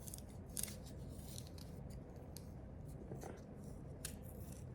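Fresh ginger being peeled and grated, a series of quiet, close scraping and rasping strokes with short bursts of crisp texture.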